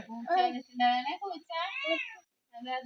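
A cat meows loudly and close by in four drawn-out, whining calls in quick succession, with short gaps between them.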